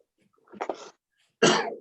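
A sneeze during a commission meeting: a short, soft breathy lead-in followed by one loud, explosive burst, heard close and alone without talk.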